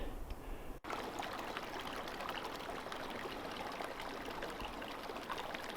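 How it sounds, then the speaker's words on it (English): Winsor Creek flows at a trail stream crossing in the Pecos Wilderness, a continuous, faint rushing and trickling of water with a brief soft knock near the start and no voices. "Here's the last stream crossing of Winsor Creek."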